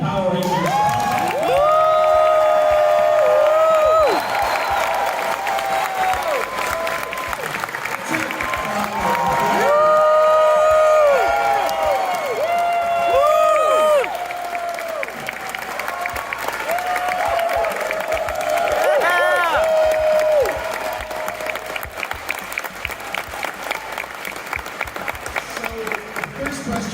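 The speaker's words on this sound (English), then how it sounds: "please join me in giving a huge round of applause for the cast of Power Rangers" Loud applause and cheering from a convention audience for the Power Rangers cast: sustained clapping with whoops and shouts, and an amplified voice and music over it, dropping away toward the end.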